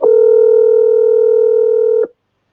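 A single steady telephone tone sounds loud and close for about two seconds as a phone call is placed, then cuts off abruptly.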